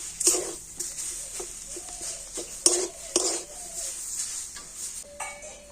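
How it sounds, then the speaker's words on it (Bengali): Spoon scraping and clinking against a pan while vegetable and peanut filling is stirred, a few sharp metallic knocks between softer scraping, fairly close and moderately quiet. "আর এবার আমি সমস্ত কিছু খুব ভালো করে মিশিয়ে নেব, মানে এইভাবে একসাথে নাড়াচাড়া করে নেব।"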